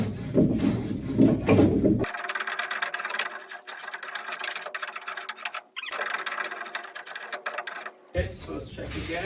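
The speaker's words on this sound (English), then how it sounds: "I'm gonna take my planer and I'm gonna keep going at it." A power planer buzzes steadily for several seconds as it shaves down wood framing in a basement of a 120-year-old house, with a brief dip mid-run and voices before and after.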